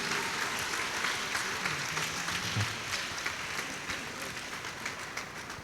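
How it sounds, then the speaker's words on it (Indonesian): Wedding guests at a holy matrimony ceremony applaud the new couple, a continuous, moderately distant wash of clapping in a reverberant hall that slowly tapers off, with faint murmurs beneath. "Berikan tepuk tangan"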